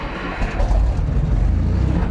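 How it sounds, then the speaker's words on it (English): M4 Sherman tanks running at the Museum of American Armor on Long Island, New York, give a loud, close, rumbling engine roar with a heavy low-end churn that holds steady. "It's the sound of these M4 Sherman tanks at the Museum of American Armor"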